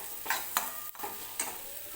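Ground masala paste sautéed in oil over low gas, with a faint sizzle and a few soft spatula scrapes at intervals.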